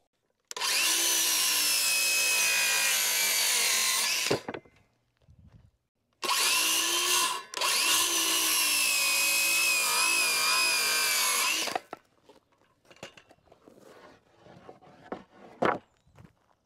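A power saw cuts knotty, uneven ends off wooden barn siding boards in two long, loud, whining passes. Lighter knocks and handling clatter follow once the blade stops.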